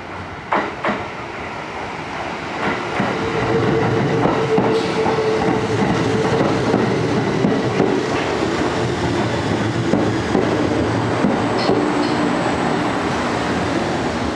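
A 2000 series train pulling into platform 5 at Ise-Nakagawa station, a steady loud rumble with rail clatter and faint wheel squeal building over several seconds, heard without talk.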